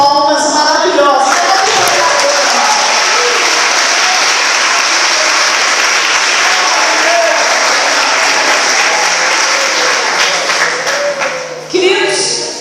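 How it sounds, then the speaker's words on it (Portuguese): A church congregation at a women's worship service breaks into sustained, loud applause that fills the room for about eleven seconds, then dies away with a few scattered claps and a brief voice at the end. "eu vou pedir que você dê uma salva de palmas maravilhosa."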